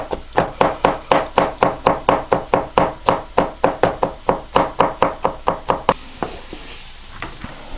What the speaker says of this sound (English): Even though I got the chopped ones, I'm going to chop it finer.